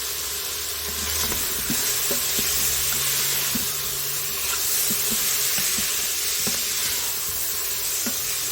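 Beanie weenies with Cajun seasoning cooking in a pan, giving a continuous soft sizzle and bubbling with occasional faint clicks, steady throughout with no talking.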